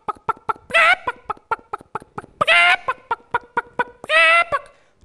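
A voice imitates chickens on a talent show stage, rapid clicking clucks in a steady patter broken by three longer, louder squawking cackles, all close and clear.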